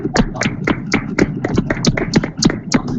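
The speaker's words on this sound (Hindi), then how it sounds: "मैं चाहूँगा कि जोरदार तालियां बजाएं" Participants at an online healing prayer meeting clap loudly in a steady, rhythmic beat, sharp claps repeating several times a second for about three seconds, close and forceful.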